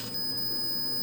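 REM pod ghost-hunting device alarm going off, a steady high electronic tone held continuously after a brief start, fairly loud and alone.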